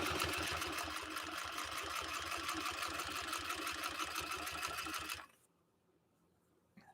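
A 1953 Singer 301A sewing machine stitches through two layers of leather with a fast, even mechanical chatter for about five seconds, close and loud, then stops abruptly into near silence.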